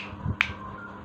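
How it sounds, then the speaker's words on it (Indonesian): A single sharp finger snap from a clown performer, crisp and close, with quiet room tone around it. "Saya hanya menjentik-jentikan jari."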